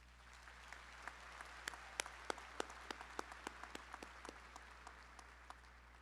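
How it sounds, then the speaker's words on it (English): Scattered, faint claps from an audience at a Summer 2024 commencement ceremony, sounding distant and thinning out toward the end. "Can we give them another round of applause?"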